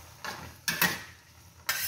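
Fish is flipped in a hot frying pan: a few brief scraping, sizzling bursts spaced apart, close and fairly quiet, with no voices.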